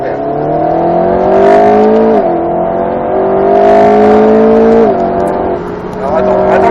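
An Alpine A110 S engine revs up hard and shifts gears several times on a racing circuit, a loud rising whine with brief drops between pulls, and a voice speaks faintly underneath.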